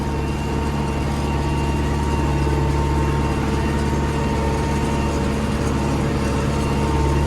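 An MTZ 82.1 tractor engine drones steadily while ploughing uneven ground, a loud low rumble with a constant hum that holds without a break throughout.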